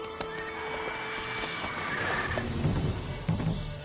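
Horse neighing in the video game The Witcher 3: Wild Hunt: one loud whinny, close by, with hoof clip-clops and game ambience under it, and no voices.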